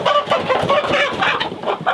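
Homestead chickens and a rooster cluck loudly and agitatedly up close, a dense burst of overlapping squawks and clucks with no talk.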